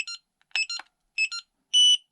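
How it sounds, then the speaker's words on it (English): An LDARC CT01 budget 8-channel car and tank radio transmitter gives a sharp, high electronic power-on alarm when switched on: short clusters of double beeps, then one longer sustained tone, loud and alone. "switch on the radio, you will get this alarm sound, annoying"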